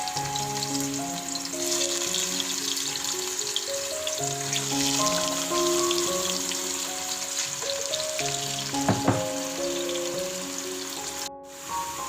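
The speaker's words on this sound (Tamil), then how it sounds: "இப்போ மெரினேட் பண்ணி வச்சுக்கிற சிக்கன் ஆட் பண்ணிடலாம்." Marinated chicken pieces frying in a little oil for biryani, a steady close sizzle and crackle with light watery bubbling, continuous throughout with no voices.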